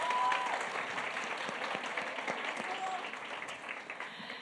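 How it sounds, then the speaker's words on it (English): An audience at a women's empowerment event in Cape Town gives a round of applause, a dense, steady clapping that gradually thins out, with some voices underneath. "Please give them a huge round of applause."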